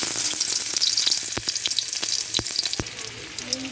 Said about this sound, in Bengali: তেল গরম হয়ে গেছে, এবারে আমি পেঁয়াজ কুচি দেবো।